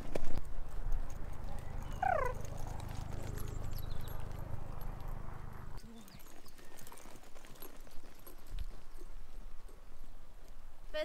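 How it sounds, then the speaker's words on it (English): Hooves of a novice endurance pony trotting outdoors on a gentle incline, a steady muffled clip-clop under wind and movement noise, with a brief whinny-like squeal early on. "So trot round each way, then hopefully canter round each way maybe four times."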